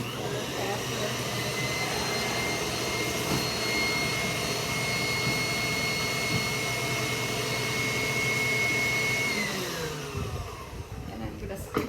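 An electric hand mixer whirs at a steady high pitch as it beats the cream cheese filling for apple Danish bars in a bowl, running loud and constant before slowing and cutting off near the end.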